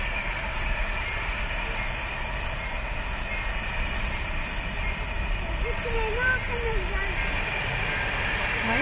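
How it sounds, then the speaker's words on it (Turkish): A freight train rumbling past with steady rolling clatter, with a few faint voices speaking over it near the end. "Bu yolcu treni değil anneciğim, yük treni."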